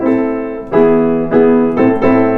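A sustained, harmonically rich instrumental melody moves through four broad notes, each entering with a soft swell, played alone without voices.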